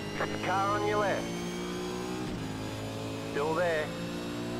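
V8 Supercar race engines at Le Mans sweep past in two loud bursts, pitch rising and falling steeply as each car closes and pulls away, over a steady low in-car engine drone and radio chatter.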